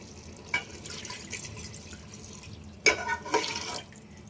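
Water poured into a pot of mutton curry arrives in a few brief splashing bursts, the strongest near the end, against a quiet kitchen background.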